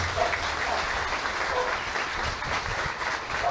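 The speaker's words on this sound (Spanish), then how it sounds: "le vamos a dar un aplauso para los acólitos" Steady applause for the altar servers from a church congregation at a Palm Sunday Mass, a continuous even patter of many hands, moderately loud, with no talk over it.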